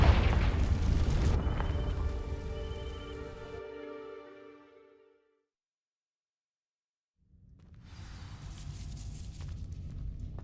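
A Confringo fire spell from Hogwarts Legacy bursts as a loud, booming explosion with a crackling fiery tail that fades into silence before a rumbling ambience returns.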